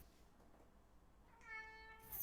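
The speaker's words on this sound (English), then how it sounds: "Yes, Kitty is here" A cat gives one short, fairly faint meow over a quiet background hum, with no talking.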